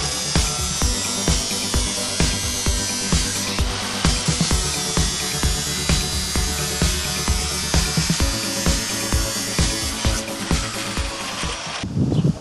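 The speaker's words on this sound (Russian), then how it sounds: "Сначала отпилим верхнюю и нижнюю часть корпуса обшивки" A power tool saws around the upper and lower parts of the steel outer casing of an old water boiler, a steady loud grinding cut running alone with rhythmic pulses throughout.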